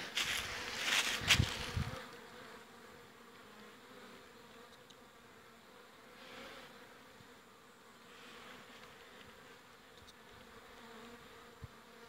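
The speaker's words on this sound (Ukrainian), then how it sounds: "Як не літають пчолки." Honeybees fly and buzz around a hive on an early spring day, a soft continuous hum with swells as insects pass near, after a brief louder rustle at the start.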